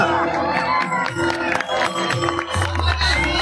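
A crowd claps and cheers loudly at a stage performance, with whoops and overlapping voices mixed into a steady roar, and a low hum entering near the end.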